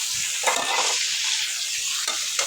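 Fish frying in a pan, a steady close sizzle with a few soft stirring scrapes and bursts of louder crackle.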